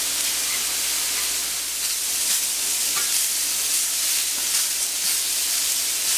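Lamb skewers frying in oil in a pan give a loud, steady sizzle with crackling spits throughout, and no one speaks.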